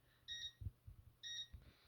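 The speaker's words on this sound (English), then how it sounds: "you'll get a quick beep to let you know, hey, you need to exit." Two short electronic beep tones from a Concord 4 alarm system's exit delay, each about a quarter second, sound about a second apart, with faint low rumbling and handling noise around them.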